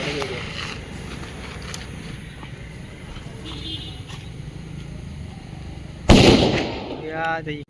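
Diwali morning firecrackers crackle and pop in the distance under continuous chatter, then one loud, close bang bursts out near the end.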